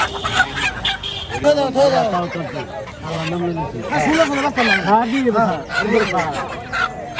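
Chickens, hens and cocks brought by vehicle to a busy village poultry market in Haluaghat, Mymensingh, squawk and cluck repeatedly and loudly up close, mixed with people talking.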